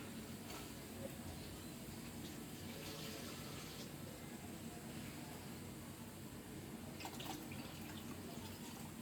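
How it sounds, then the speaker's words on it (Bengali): Water being poured into a spice mixture in a cooking pot for a sour fish curry, a faint steady trickling pour heard from a distance against a low background. "আর এখানে এই মশলার মধ্যে আমি পানি দিয়ে দিব।"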